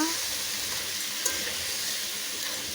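Oil frying hard for a crab curry, a loud continuous close sizzle and hiss with a faint stirring sound and one small clink partway through.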